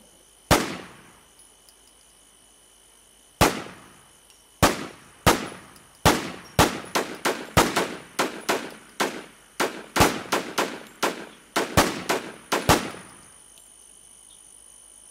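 Gunfire in the online survival game War Z: a single sharp shot, a pause, then a run of rapid cracking shots in irregular bursts, loud and clear with no talk over them.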